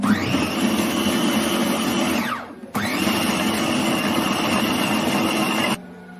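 An electric blender whirs loudly as it blends oil and spices. The motor spins up in a sustained whine, cuts briefly, restarts for another long run, then stops.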